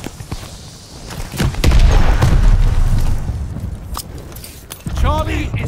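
Grenade blast in the Call of Duty Vanguard multiplayer shooter, a loud boom swelling at about two seconds and fading, with gunfire, thuds and a spoken voice around it.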